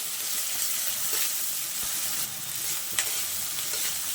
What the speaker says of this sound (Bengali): টমেটো আর ক্যাপসিকামটা কিছুক্ষণ ভেজে নেওয়ার পর এখন রসুন কুচি আর আদা কুচিটা দিয়ে দিচ্ছি। আবারও ভালোভাবে নাড়তে থাকবো।